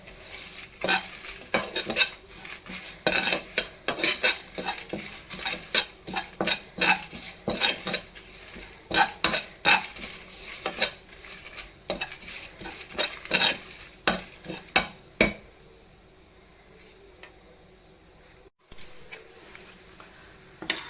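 Dry coconut powder being stirred in a pan for star fruit gojju, with quick repeated scraping and tapping of a spoon against the pan that stops near the end, followed by near silence.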